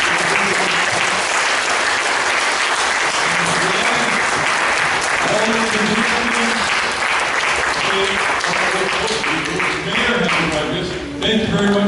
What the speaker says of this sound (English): give yourselves a big, big round of applause